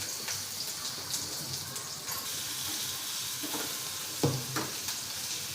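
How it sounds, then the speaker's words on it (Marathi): Chopped onion frying with ginger pieces and red chili in a home kitchen, a soft, steady sizzle with a few stirring scrapes near the end, quiet and without talk. "त्यानंतर आपण बारीक चॉप केलेला कांदा ते छान लाल होईपर्यंत आपण परतून घेऊया"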